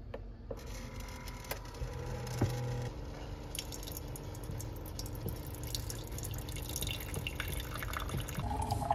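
Water poured in while making a French vanilla cappuccino at home, a faint trickling and dripping with small clicks and mechanical noises from the coffee machine, no voices.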